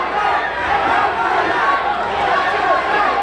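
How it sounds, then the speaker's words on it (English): A crowd roars and chants at a Toro MMA fight between Jason Soares and John De Jesus, a dense, loud, sustained wash of voices that fills the arena. "this crowd is coming alive"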